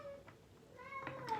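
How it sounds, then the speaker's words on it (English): A male cat meowing at his toy indoors, with a couple of short, close, rising meows that build toward a louder final cry. "Sorry about the cat, he's meowing at his toy."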